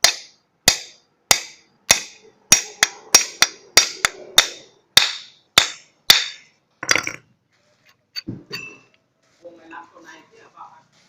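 A hammer drives a part out of an agricultural sprayer pump with about a dozen sharp, loud metallic blows in a steady rhythm, followed by lighter clinks and handling of metal parts, and a voice speaking briefly near the end.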